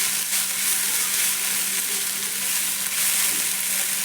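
A stuffing of vegetables and grated potato fries steadily in a pan, a continuous close sizzle with soft stirring scrapes mixed in and no talking.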